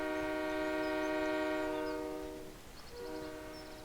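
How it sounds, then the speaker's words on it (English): A train in Farming Simulator 17 sounds a long, steady multi-tone horn blast that fades out, followed by quieter rumbling of the moving rail cars. "I do believe we have some sounds for the trains here."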